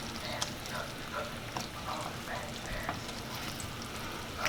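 Vodka sauce and fresh pasta, made with chicken, sizzle steadily in a hot pan as they are stirred, a dense continuous frying hiss with small soft clicks and pops.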